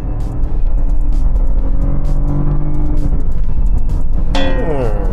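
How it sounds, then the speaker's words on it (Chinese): Used BMW sedan pushed to full throttle from about 30 km/h, a loud steady engine drone heard from inside the car that climbs slowly in pitch, with a brief sharp rising tone near the end. "时速大概是30，我一脚地板油门下"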